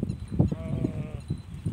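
A flock of goats at a farm by the Pa Sak Jolasid Dam, Thailand, gives several short bleats in quick succession, close and fairly loud over steady outdoor background noise.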